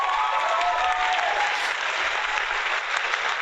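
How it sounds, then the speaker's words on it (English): A dense, steady round of applause from a crowd, like a clapping sound effect, holding evenly for a few seconds with no voices over it. "Like the clapping sound effect is..."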